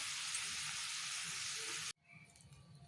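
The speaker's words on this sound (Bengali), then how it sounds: "মশলার সাথে চিকেনগুলো খুব ভালো করে ভাজবো" Chicken pieces fry with spices in a hot pan, giving a loud, dense, continuous sizzle close up that cuts off abruptly, leaving faint kitchen noise.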